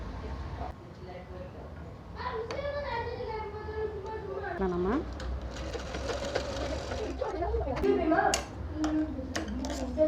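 A sewing machine stitches a plain blouse, its rapid mechanical run going on under a voice talking close by throughout.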